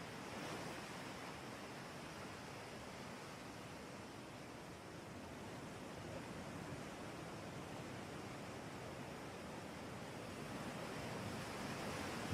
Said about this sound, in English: you see the waves lapping the shore